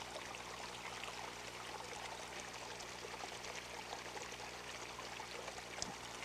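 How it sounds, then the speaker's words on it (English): Water running through a Mini Max machine, a steady, even trickling pour that continues without pause at a fairly quiet level. "let me fire this up and run a little water through it so you can see how it looks"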